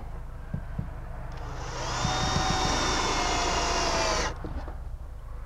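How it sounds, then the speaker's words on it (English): A power drill with a countersink bit bores a pilot hole into soft cedar for a sailboat floor board, whirring steadily for about two seconds at close range, with light knocks and handling before and after. "I'm drilling a pilot hole for the screw with a countersink."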